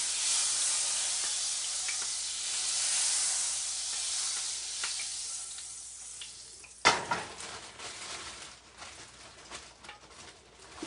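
Butter sizzles and hisses steadily in a frying pan for several seconds before a sudden clatter of pan or utensil, followed by quieter scattered kitchen knocks.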